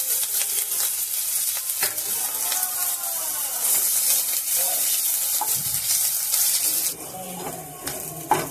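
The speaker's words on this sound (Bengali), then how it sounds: "আদাটা একটু ভেজে নিয়েছি।" Long-cut ginger fries in a pan with a piece of cinnamon, a bright steady sizzle with spoon scrapes and occasional clinks against the pan, fading slightly near the end.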